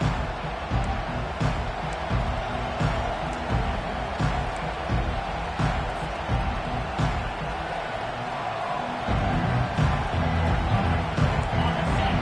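Stadium crowd roar at a college football game as the kickoff is fair-caught, a dense continuous wash of distant cheering and hubbub that holds steady and swells slightly toward the end.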